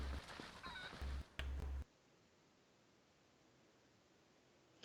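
A chicken in the video game Zelda Twilight Princess giving a few short, loud clucking and squawking bursts close up, then quiet hiss with a faint final blip.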